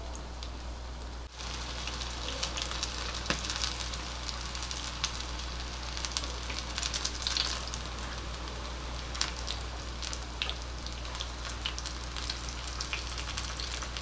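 Veg cutlets shallow frying in a pan, a steady crackling sizzle with scattered pops and a low constant hum underneath, after a brief dip near the start.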